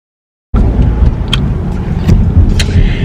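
Inside a moving car, a steady low rumble of engine and road noise fills the cabin after a brief silence, with a few faint clicks and taps over the drone.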